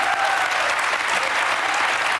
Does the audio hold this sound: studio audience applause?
yes